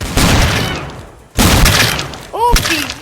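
A shooting video game fires loud bursts of gunfire, dense crackling volleys that stop for a moment and then resume, with a few sharp whooshing effects near the end.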